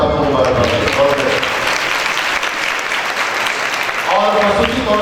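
A congregation at a Good Friday prayer service in St Thomas Church, Gulberg, Lahore, fills the space with loud, sustained applause, and a voice over the sound system breaks through at the start and again at the end.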